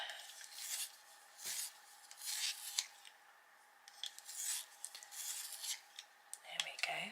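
A blunt coloured pencil is sharpened by hand, giving close, quiet bursts of rasping and scraping in an irregular rhythm, with brief pauses between twists.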